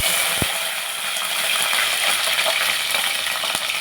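Green chilies, garlic, cumin seeds and curry leaves frying in hot oil in a pan for sesame chutney, a steady broadband sizzle with faint crackles and a couple of sharp pops, no talking.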